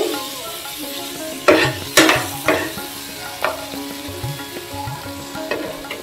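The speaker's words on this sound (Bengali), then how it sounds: "চিংড়ি মাছ ভাজা" Shrimp fry in a hot pan at home, a steady sizzle broken by several sharp scraping stirs, loudest early and then settling into a quieter crackle.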